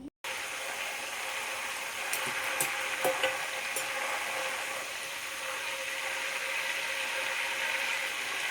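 Raw jackfruit pieces fry in hot oil, a steady, fairly loud crackling sizzle that runs continuously with scattered sharper pops and a brief clink of utensils.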